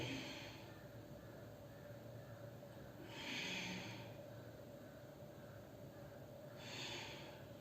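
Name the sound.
deep breathing during yoga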